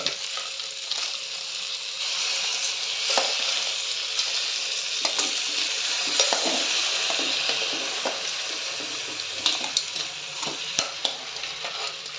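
Crab pieces frying in a pan with ginger garlic paste: a steady, close sizzle fills the whole stretch, with scraping stirs and small clacks of a spatula against the pan scattered throughout.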